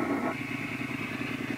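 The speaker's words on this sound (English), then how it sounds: "that's a very realistic replication of the sound when a bike is idling" A motorcycle engine idles with a steady, lumpy low throb, close and even throughout the short stretch.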